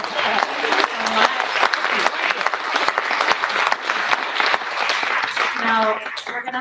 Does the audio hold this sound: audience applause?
yes